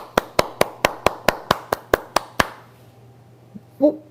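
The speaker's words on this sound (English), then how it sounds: "The press applauded him." About a dozen sharp, evenly spaced hand claps from the press at the end of Joe Biden's press conference, loud and close, then they stop and a faint sound follows.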